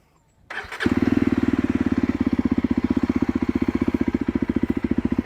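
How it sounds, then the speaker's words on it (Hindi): A 2024 Yezdi Adventure motorcycle engine cranks and fires in neutral, then settles into a loud, steady, rhythmic idle thump close by. "इंजन ऑन करते हैं, साइड स्टैंड पे लगी है बाइक, न्यूट्रल में बाइक है, and we will start the engine"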